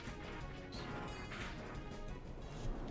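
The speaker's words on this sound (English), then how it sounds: "now it's going to capitalize on it with Sacred Sword" A Sacred Sword strike lands in the Pokemon Clover video game, a dense crashing smash that fills the whole moment at steady loudness with no one talking.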